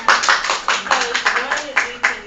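A small crowd applauds in a breakout room at a youth workforce summit, a short burst of about a dozen distinct claps, close and fairly loud, with a voice talking over them.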